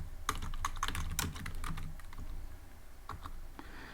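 Rapid typing on a computer keyboard to enter food names, bursts of crisp close key clicks with short pauses, a few isolated taps toward the end.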